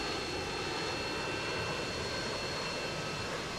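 Harrier jet roaring overhead in the video game Modern Warfare 2, a steady, loud broadband engine rush that holds without break for the whole stretch, with no talking.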